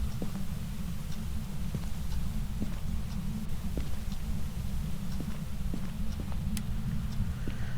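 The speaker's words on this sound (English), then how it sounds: "I think what it's mostly boiling down to are footsteps." Faint, evenly spaced ghost footstep taps sound over a steady low hum in the video game Phasmophobia, like slow walking somewhere nearby.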